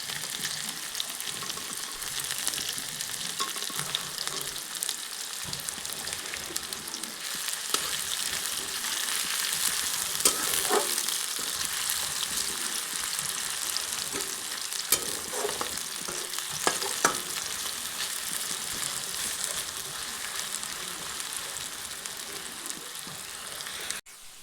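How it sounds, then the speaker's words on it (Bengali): Chopped onion fries in hot oil in a wok, a long continuous sizzle with stirring scrapes and occasional sharper clinks of the utensil, close and fairly loud, with no talking. "পেঁয়াজটাকে এখানে হালকা লাল লাল করে ভেজে নেব"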